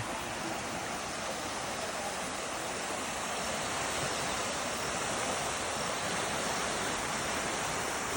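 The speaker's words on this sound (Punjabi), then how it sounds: "ਆ ਦੇਖੋ ਇੱਥੇ ਲੰਘਦਾ ਹੁਣ ਪਾਣੀ" Water rushes loudly and steadily through a field channel, a dense, unbroken roar that stays close and constant from start to finish with no voices.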